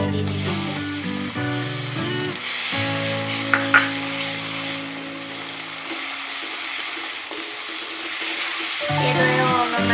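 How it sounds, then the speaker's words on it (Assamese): Onions sizzle steadily in a pan as tomato paste is stirred in while cooking chole paneer, a continuous frying hiss with light scraping under background music. "এতিয়া মই বিলাহীৰ পেষ্টখিনি দি দিম।"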